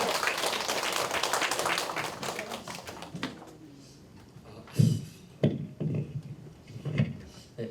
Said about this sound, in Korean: 힘차게 박수로 환영으로 해주시면 좋겠습니다